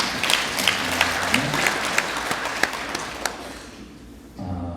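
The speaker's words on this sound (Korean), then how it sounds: "우리 격려의 박수 한번 하겠습니다" Church congregation clapping in encouragement for children who sang, a dense round of applause with a few louder individual claps that fades out near the end before other sound resumes.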